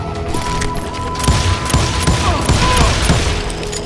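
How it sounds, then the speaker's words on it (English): Rapid gunfire crackles in a loud fusillade in the Western shooter Call of Juarez: Gunslinger, with overlapping shots and booms in a street battle. "They're shooting in the street!"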